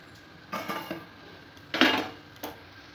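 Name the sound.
draining water from boiled fish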